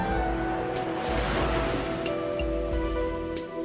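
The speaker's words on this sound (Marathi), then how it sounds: "समुद्रही शांत झालाय, पण त्याच्या लाटांचा आवाज शांतता भंग करतो." Sea waves wash onto a beach at night, a steady broad rushing surge that stays loud throughout, with a breezy wind over the shore.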